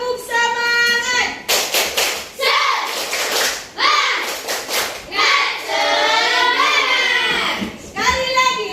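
Schoolchildren in a classroom do a rhythmic tepuk semangat spirit clap, bursts of group clapping and chanting kids' voices alternating with a teacher's lively calls.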